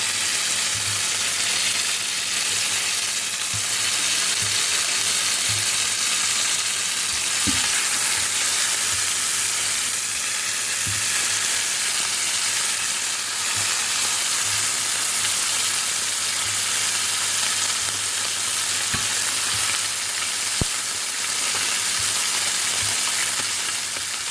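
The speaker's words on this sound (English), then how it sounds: "I'm going to be grabbing some tentacles and just quickly dropping them in, and just fry them up a little" Octopus tentacles from the Mediterranean dropped into a hot pan, frying with a continuous dense sizzle and occasional stirring clinks and scrapes, close and steady throughout, with no voices.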